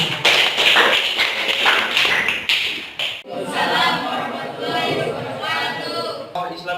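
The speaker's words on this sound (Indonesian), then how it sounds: "Baik, tepuk tangan." Applause from a classroom of students, a dense patter of clapping mixed with chatter, loud and close, continuing steadily throughout.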